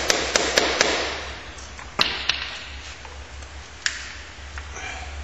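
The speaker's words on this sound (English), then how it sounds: "get the proper size screwdriver, just give it a couple of taps" A hammer taps a screwdriver to loosen a stuck screw on a go-kart CVT install, giving a few sharp metallic knocks, a quick cluster early then two or three spaced taps, over a low steady hum.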